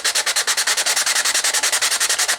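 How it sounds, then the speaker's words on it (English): Hand sanding with 150 grit sandpaper makes a steady, even rasping rhythm, about ten quick strokes per second, close and loud with no other sounds. "But we're going to do some of this sanding."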